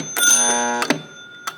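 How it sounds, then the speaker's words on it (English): The loose bell of a 1961 Gottlieb Corral pinball machine rings once loudly and sustains briefly, followed by a couple of sharp mechanical clacks. "Telling me the bell's a little loose."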